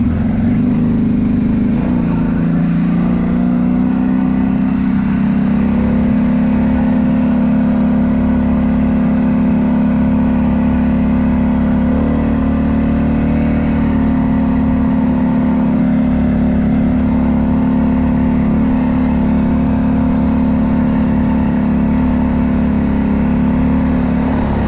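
A cheap four-wheeler ATV engine drones loud and close as it churns through a muddy hog wallow, holding a steady rumbling note for the whole stretch with small swells in revs.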